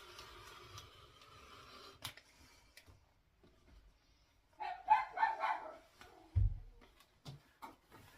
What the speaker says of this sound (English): that's one of my dogs barking at somebody walking past the house